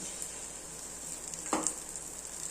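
Thuvaiyal omelet batter sizzles in a hot pan as a faint, steady hiss, with a brief louder burst midway when more batter goes in.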